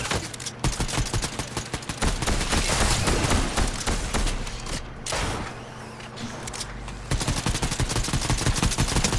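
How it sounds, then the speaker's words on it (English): Gunfire in the video game Fortnite, dense rapid shooting bursts that are loud and near, dropping briefly before resuming, with no talk over it. "Someone shooting over here?"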